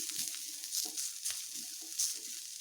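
Pointed gourd peels frying over medium heat give off a steady, close-up sizzle with a few soft scrapes as they are stirred in the pan.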